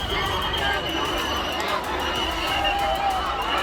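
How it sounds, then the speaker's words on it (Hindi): A dense crowd packed tight at the Maha Kumbh stampede in Sector 21, a loud, continuous roar of many voices and shuffling bodies, close and unbroken throughout. "महाकुंभ के सेक्टर 21 में चारों तरफ से आई भीड़ एक साथ फंस गई"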